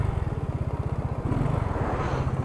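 A Yamaha Mio 130cc motorcycle engine runs at high revs, with rapid, evenly spaced exhaust pulses that thicken slightly midway, heard close and alone without talk.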